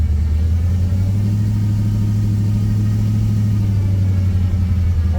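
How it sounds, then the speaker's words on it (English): A car engine runs with a loud, steady low rumble and a sustained whine over it, close by and with no talk over it. "it seems to steer fine, just makes a whine"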